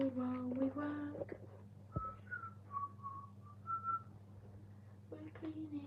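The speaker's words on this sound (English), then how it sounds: "Whistle while we work." A person whistles a short, wavering tune while cleaning up a room, the thin notes fairly faint and broken by brief talk before and after.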